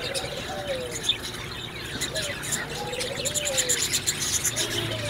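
A red-hooded female and violet male lovebird pair chirp repeatedly in short, bright calls throughout, with thin insect-like trills and a steady low background hum.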